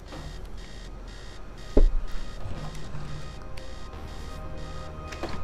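An alarm clock on a yacht in Max Payne 3 rings in steady, repeating electronic beeps at a moderate level. A brief thump interrupts partway through.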